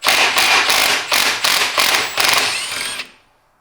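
Removing a bolt from a Toyota J160 transmission: a rapid burst of sharp, loud rattling impacts from a power tool, about eight pulses in three seconds, ending abruptly with a short ringing decay.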